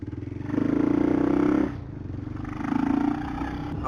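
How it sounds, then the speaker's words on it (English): A Kawasaki KLR650 motorcycle with a loud exhaust and a 15-tooth front sprocket revs in two strong surges, its deep throbbing engine note rising, dropping back to idle, then climbing again close by. "My stupid loud exhaust pipe's way too loud."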